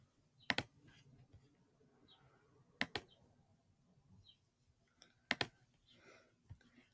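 Sharp, quiet mouse clicks on a computer, three distinct pairs of clicks spaced a couple of seconds apart against a faint room background, with no talking.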